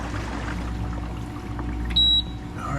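A Hoshizaki ice machine's water pump hums steadily with low mechanical drone throughout, joined near the end by a brief high electronic beep.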